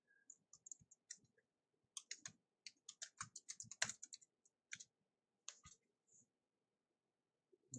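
Keys click on a computer keyboard in irregular bursts of typing, crisp and close but quiet, with pauses between runs and no voices.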